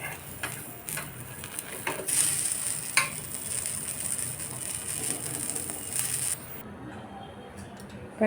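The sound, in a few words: veg omelette frying in a kadai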